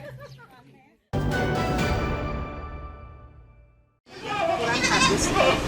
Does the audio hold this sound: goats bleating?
yes